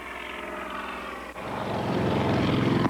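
An aircraft flies a 180-degree turn with a steady droning engine and propeller tone. The drone swells louder and shifts in pitch partway through as it comes around.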